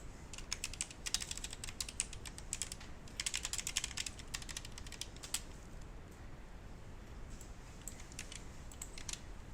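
Computer keyboard keys tapped in quick bursts of crisp clicks, close and fairly quiet, with short pauses between flurries and a soft room hiss underneath.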